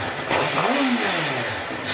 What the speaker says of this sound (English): But first, like I said, some stock exhaust revs.